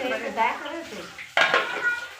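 Fish frying in a pot in a home kitchen, with sizzling and metal clatter of pot and utensils, a sharp clank midway, under a voice talking.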